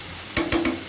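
Ginger garlic paste sautéing in a pan for a tomato curry: a soft background sizzle with three quick scraping stirs of a spoon in close succession, no voices.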